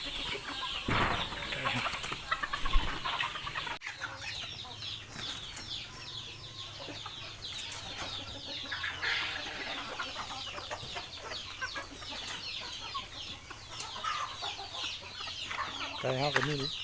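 Mongolian black chickens cluck and call steadily on a farm, a dense run of bird chatter with a few louder squawks and soft wing flaps, the flock close and continuous throughout.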